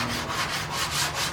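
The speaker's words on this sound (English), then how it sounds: "you grip the sandpaper in the banjo, and you could go along and flatten out the body" Sandpaper clamped in a long flat banjo sanding board rubbing along a wooden plane body, a steady close scratchy back-and-forth stroke with no talking.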